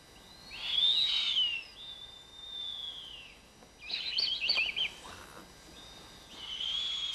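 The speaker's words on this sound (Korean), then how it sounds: "세계에서 가장 큰 부엉이" A Blakiston's fish owl, the world's largest owl, gives high, whistling, wavering calls in several drawn-out phrases over quiet night air, fairly close and without talk.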